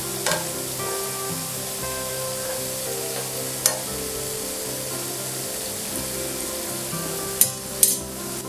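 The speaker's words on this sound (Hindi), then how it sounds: "तो सारी टिकियाओं को मैंने पलट कर गोल्डन ब्राउन होने तक फ्राई कर लिया है।" Green peas vada patties fry in hot oil until golden brown, giving a steady soft sizzle throughout with a few sharp clinks of a utensil near the end; no one speaks.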